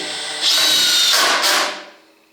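Cordless drill with a built-in work light and its clutch set to 9, used while building a wooden reloading bench, whirring loudly and close for about a second and a half before spinning down, with no talking.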